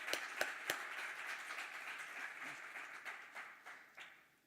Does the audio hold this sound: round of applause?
yes